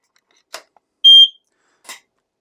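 A single loud, piercing electronic beep from a PowerG smoke detector, lasting a moment, between two soft clicks, otherwise quiet.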